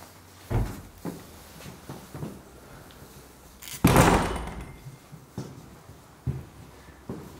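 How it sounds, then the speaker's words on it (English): Secret door to a storage area in an abandoned 1890s Victorian farmhouse being opened, several close wooden knocks and thumps followed by a louder scraping creak of the door swinging, then more scattered knocks. "There's a secret door here."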